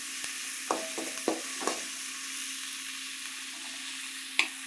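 Capsicum frying in a pan for simple veg rice, a steady close sizzle with a few brief stirring clatters and scrapes, no voices.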